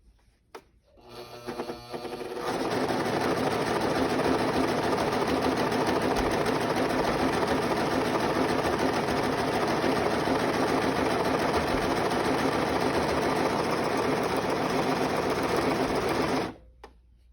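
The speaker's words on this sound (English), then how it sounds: "I'm going to show you how to do the Flatlock stitch, and to achieve this, all your tensions on your serger has to be very loose" A serger with very loose tensions sewing a flatlock stitch, running as a steady, fast mechanical whir for about fourteen seconds, close and loud, then stopping abruptly.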